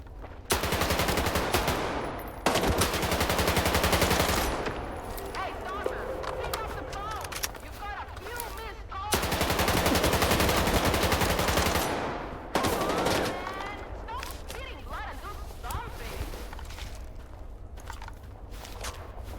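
Gunfire in STALKER 2, long bursts of rapid automatic shots with short pauses between them, loud and close, with game ambience and occasional talk in between.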